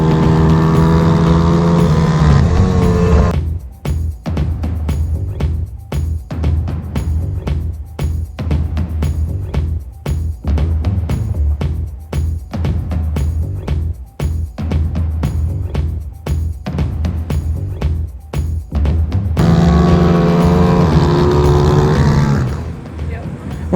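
A pit bike laps Lydd kart circuit, its engine buzzing in rapid pulsing bursts that rise and fall with throttle changes through the corners. Someone talks before and after the ride.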